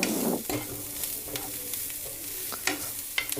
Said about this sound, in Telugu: చూడండి, పోపు బాగా వేగింది.